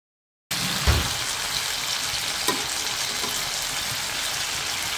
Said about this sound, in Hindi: अब उस साइड से भी अच्छे से इसको फ्राई करेंगे